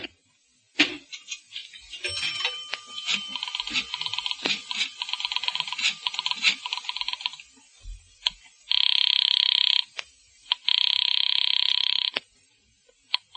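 A 1940s wall telephone in use: clicking and rattling from handling the handset and dial, then two sustained ringing or buzzing tones with a brief gap between them, fairly close, with no talking.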